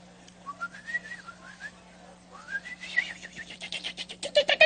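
A person whistles a warbling, bird-like melody of rising and falling chirps that grows busier and louder toward the end, imitating birdsong.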